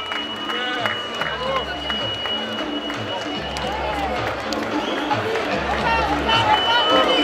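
Spectators at a 10 km road race in Soustons clap and cheer in a sustained, building wave while an announcer talks over the crowd.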